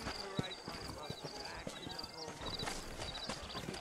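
Horse hooves clip-clop steadily while riding in the video game Red Dead Redemption, played on a PS3 emulator, with a continuous galloping rhythm under other game sound.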